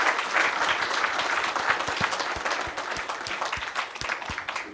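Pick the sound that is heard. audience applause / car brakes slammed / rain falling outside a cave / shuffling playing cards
audience applause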